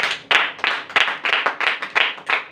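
Audience claps in short, uneven bursts, loud and close, a brief round of hearty applause at a talk or gathering.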